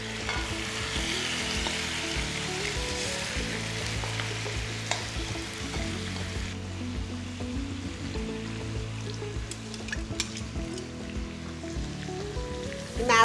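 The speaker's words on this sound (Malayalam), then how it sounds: "നമുക്കിപ്പോൾ ഓൾറെഡി ഫ്രൈ ചെയ്ത് വെച്ചേക്കുന്ന ഈ മസാല ചിക്കനും എല്ലാം കൂടി ഇതിനകത്തേക്ക് ഇടാം." Masala chicken sizzles steadily in a hot pan for zurbian, a continuous close frying hiss with occasional stirring scrapes and bubbling, no talking.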